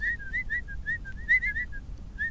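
A series of short, rapid whistled chirps in the video game Hound Automaton, high and bright, repeating in a quick rhythm over quiet low background noise.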